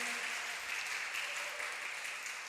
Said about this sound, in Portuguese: Aplauda mesmo ao Senhor.